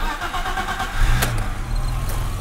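A BMW E30 with the M-Tech package, low on gas, cold-starts: a brief crank, then the engine catches at about one second and settles into a steady, close-up idle.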